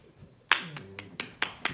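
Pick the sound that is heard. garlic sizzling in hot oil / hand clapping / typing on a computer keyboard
hand clapping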